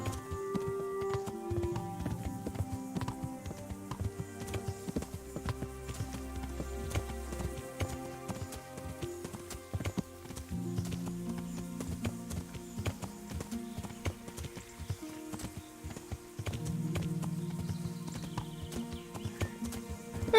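In the Kingdom Come video game, a horse's hooves clip-clop in a steady rhythm, with occasional neighs over soft game music and ambience, moderately quiet throughout.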